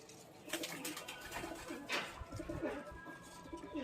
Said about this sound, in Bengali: এইখানে সব পাট্টা পায়রা আছে